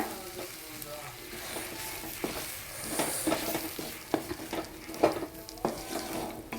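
Garam masala and coriander powder sautéing with stirring in a pan for a beef curry, a steady close sizzle broken by repeated scraping strokes of a spoon, with no voices.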